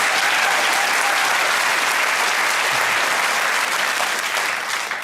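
A studio audience at a comedy panel show applauds loudly and steadily, a dense roar of clapping that holds for several seconds and tapers slightly at the end.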